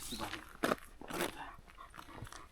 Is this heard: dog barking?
yes